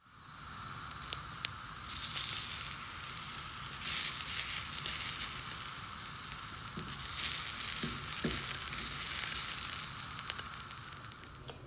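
Chickpeas with smoky Cajun seasoning frying in a pan, a steady crackling sizzle with scattered pops and a few soft stirring knocks, close and fairly quiet throughout.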